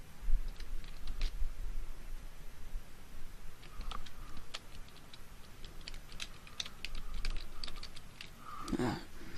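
Typing on a battery-powered computer keyboard: irregular bursts of close, crisp key clicks with short pauses, heard alone without any talking.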